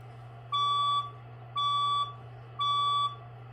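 Building fire alarm test sounding three evenly spaced loud electronic beeps, each lasting about half a second, over a steady low background hum indoors.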